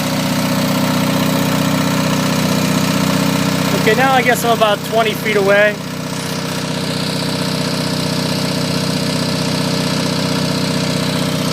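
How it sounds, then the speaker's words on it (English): A diesel Onan generator engine idles steadily while warming up, a constant low droning hum heard from about twenty feet away, with someone talking briefly over it midway. "I think with a good muffler on there, most you'll hear is the engine noise and not necessarily the exhaust."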